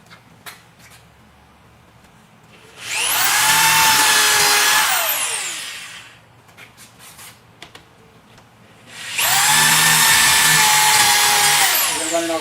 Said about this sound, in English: we're going to go ahead and drill out our 2 remaining holes